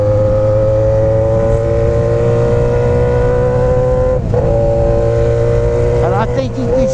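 Yamaha XJ6 motorcycle with a 2.5-inch straight-through exhaust, shifter kit and air box work, holding a loud steady engine note with strong low harmonics, a brief dip and recovery near the end, close and continuous.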